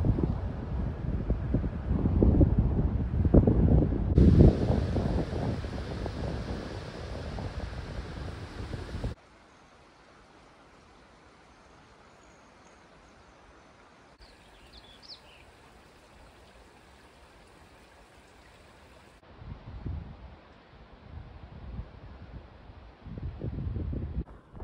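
Strong wind buffets the microphone outdoors at Four Corners, with loud, rumbling gusts for several seconds, then drops to a quiet hiss before gusting again near the end.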